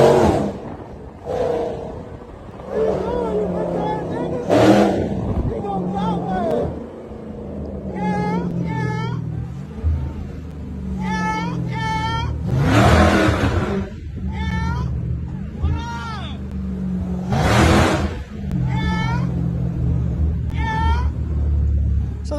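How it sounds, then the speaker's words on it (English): A large car's engine revs repeatedly in bursts of rumbling roar, loud and close, rising and falling over about twenty seconds with a police car behind it. "this guy revving his giant car at the police behind him"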